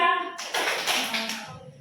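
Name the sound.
class clapping a two-beat pattern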